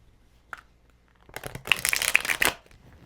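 A deck of cards is riffled and shuffled close by in one brisk papery burst of about a second, after a faint tap and near silence.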